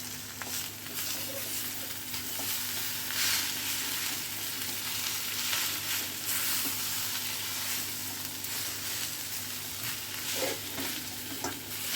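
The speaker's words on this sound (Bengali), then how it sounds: "এটাকে খুব ভালো করে নাড়াচাড়া করে নিতে হবে, ওপর নিচ করে নিতে হবে।" An egg and fish mixture sizzles steadily in a pan as it is stirred and turned, with a soft continuous frying hiss and occasional scrapes of the spatula, close and alone without speech.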